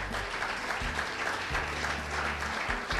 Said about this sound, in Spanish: ¿Cuántos aplauden el nombre del Mesías?